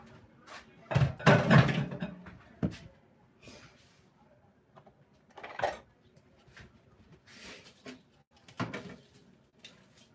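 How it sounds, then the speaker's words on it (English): Food stirred around in a pan with a utensil during meal prep of salmon, wild rice and Brussels sprouts, several clattering scrapes and knocks in irregular bursts, close and fairly loud, then quieter clinks. "I'm gonna stir that around."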